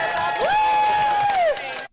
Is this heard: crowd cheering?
yes